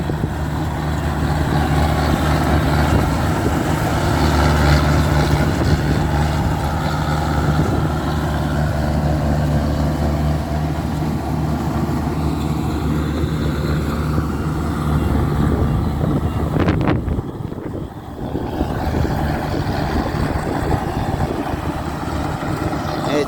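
A combine harvester runs in a Thai rice field during harvest, its engine a steady, loud, low droning rumble that continues for the whole stretch with only a brief dip near the end.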